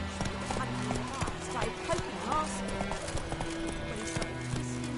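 Horse hooves gallop in the video game The Witcher 3, a fairly quiet, rapid clip-clop rhythm of hoofbeats mixed with game sounds.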